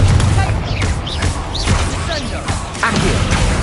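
A Confringo spell explosion in Hogwarts Legacy erupts as a loud, rumbling blast with repeated thuds and crashing impacts layered over a continuous low roar.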